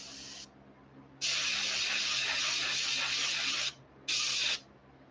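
Spray gun spraying paint onto a crawfish fishing lure: three bursts of airy hiss, a short one, a long sustained spray of a few seconds, then another short burst, over a quiet low hum.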